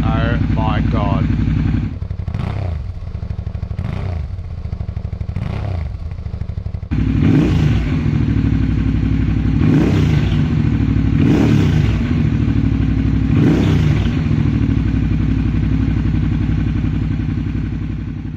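A loud, raw Suzuki DL650 V-Strom engine idles close by with its exhaust baffle removed, blipped into repeated sharp revs that rise and fall, with a coarse, unmuffled exhaust rumble throughout.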